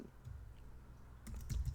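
Keys tapping on a computer keyboard while a Facebook post is typed, a few soft clicks at first, then a quicker cluster of keystrokes near the end, close and quiet over a low background hum.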